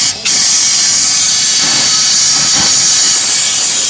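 Fluid is sprayed into the front differential of a 2001 Ford F-150 4x4 4.7-liter, heard as a loud, continuous close-up hiss that runs almost unbroken after a brief gap at the start.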